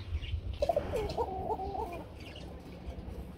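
A pair of Koka running pigeons gives one short, warbling cooing call lasting about a second and a half, fairly close, over low background rumble.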